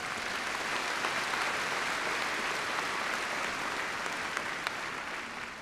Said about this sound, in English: So, like, everybody clap really quick.